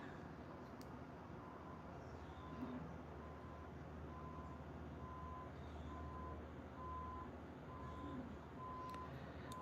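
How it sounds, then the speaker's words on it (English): Repeated vehicle reversing beeps sound faint and distant, evenly spaced under a steady low rumble of background noise. "You don't like the beeping?"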